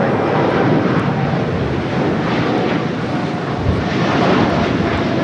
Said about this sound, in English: Dreamliner now rolling down at 25 right